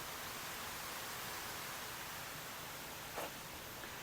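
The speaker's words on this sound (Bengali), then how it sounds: "এই যে এটা হলো গিয়ে পাহাড়ের ভিতরের যত বৃষ্টির পানি আছে এই" Rainwater draining down inside a hillside at Penang Botanic Garden in Malaysia, a steady broadband wash of flowing water with a brief brighter splash near the end, no voices.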